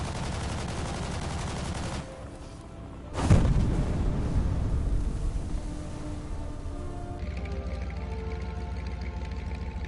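Gunfire in the War Thunder game as two different types of guns fire: dense continuous bursts for the first two seconds, a brief pause, then a loud heavy volley with rumbling, followed by steady sustained firing.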